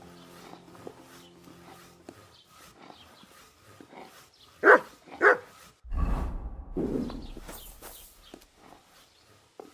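A dog barks twice in sharp, close bursts in the medieval village world of Kingdom Come Deliverance 2, with soft footsteps and ambient movement around it and a louder rustling shuffle afterward.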